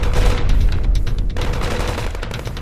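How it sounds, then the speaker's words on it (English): Heavy, continuous gunfire rings out in a dense, sustained fusillade of overlapping shots and bursts, loud and close, easing slightly about halfway through before carrying on. "Slowly, the gunfire came to a stop as Trevor and Beck looked up."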